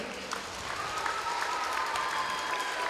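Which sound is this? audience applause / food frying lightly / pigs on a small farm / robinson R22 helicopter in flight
audience applause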